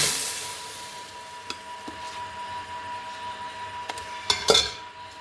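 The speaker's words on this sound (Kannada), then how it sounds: "ಇದನ್ನೀಗ ಒಲೆ ಮೇಲೆ ಇಟ್ಕೊಂಡೆ. ಸ್ವಲ್ಪ ಬೆಣ್ಣೆ ಹಾಕಿ" A pot sits on a stove while butter is added and a homemade herbal face cream is stirred, with faint scraping and a few sharp metallic clinks and taps of a spoon against the pan, growing busier toward the end.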